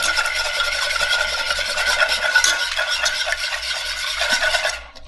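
A whisk or spoon stirs egg yolks, sweetener and half and half in a bowl, a continuous close scraping and swishing rhythm that stops abruptly near the end.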